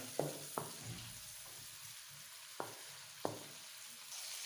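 Potatoes browning in a pan for aloo keema, giving a low steady sizzle broken by a few sharp scrapes or clinks of stirring, close by with no voices.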